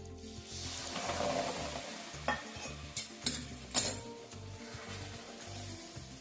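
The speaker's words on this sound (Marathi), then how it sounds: "दूध घातल्यानंतर पुन्हा 1 मिनिट हे पीठ आपण व्यवस्थित परतून घेणार आहोत।" Mung bean flour roasting in ghee with milk just added, stirred in a pan with a spoon: steady soft scraping and faint sizzle, with a few louder clinks of the utensil against the pan near the middle.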